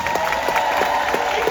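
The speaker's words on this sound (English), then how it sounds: "Can we give a huge round of applause to the cast and crew of the Acolyte?" Audience applause at the UK premiere of Star Wars: The Acolyte, a brief burst of crowd clapping with scattered cheering, fairly loud and without talk.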